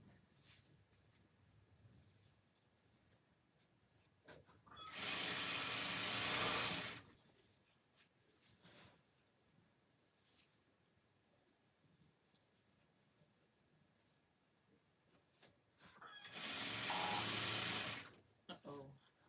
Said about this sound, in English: it's nothing fancy going on right now other than sewing this tutu